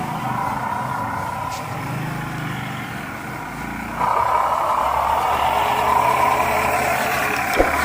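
A radio-controlled Canter truck's small motor whirring as the truck pulls away, with a sudden step up in buzzing pitch and loudness midway, close and steady, with no talk.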